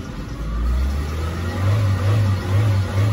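A car engine with its immobilizer removed starts and revs toward about 3,000 rpm, a steady mid-pitched hum that rises and pulses in repeated throttle blips, close and fairly loud with no talking.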